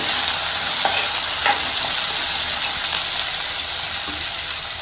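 Onions fry loudly in oil in a pan for saagu, a dense, close, continuous sizzle with faint stirring taps now and then.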